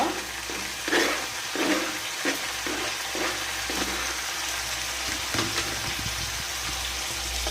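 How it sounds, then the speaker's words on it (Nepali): Tomatoes fry in hot oil in a pan for a simple fish curry, giving a steady, fairly loud sizzle with occasional stirring scrapes throughout and no talking. "रातो रातो भएर भुटेपछि हजुरहरूले यसमा टमाटो राखिदिनु होला"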